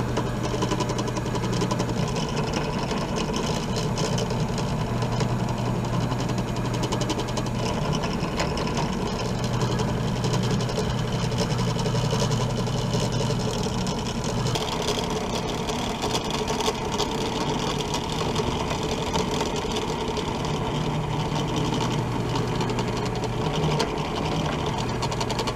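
A rotary drill bores a hole into a small rock for jewelry, giving a steady, close mechanical whir with a low hum that continues without pause throughout.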